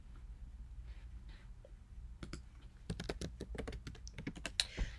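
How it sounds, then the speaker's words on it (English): Keywords are typed on a computer keyboard: a quiet stretch first, then a close, rapid burst of irregular key clicks that grows busier and louder toward the end. "Sometimes it takes you got to type in"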